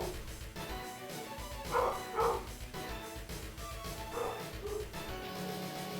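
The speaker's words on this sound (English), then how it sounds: "I hope that dog barking isn't too loud." A dog barks a few times in the background, muffled and moderately faint, with two quick barks close together followed by a single later bark over a steady low hum.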